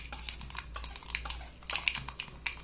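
Mustard seeds crackling in hot oil for a dhokla tempering, a scatter of sharp, irregular pops and snaps over a low background hum, close and fairly quiet.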